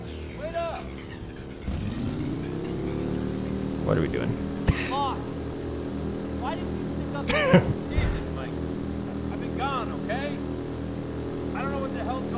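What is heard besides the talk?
motorcycle engine sound from Ride to Hell: Retribution video game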